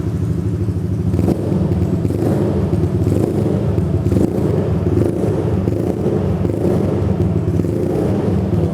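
A Yamaha NMAX motorcycle in a custom cafe racer build with a custom exhaust rumbles steadily with a deep, bassy tone, revved lightly now and then, close by and loud.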